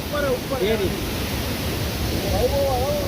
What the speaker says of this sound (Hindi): ये आप फाइनल जो ये फाइनल वाटरफॉल है